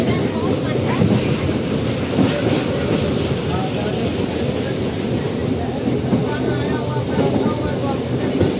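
A train crosses the Farakka bridge, recorded from on board: a loud, continuous rumble with rattling and wind roar, and a voice talking faintly underneath.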